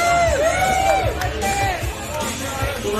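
Crowd cheering at an oyster shucking contest at a seafood festival, a lively mix of shouts, whistles and excited chatter from a nearby audience, with voices calling out over it.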